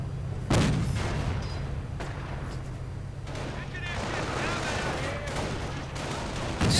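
Artillery fire in a real-time strategy battle game sounds as several sharp booms and bursts scattered over a steady low rumble, with a voice talking over part of it.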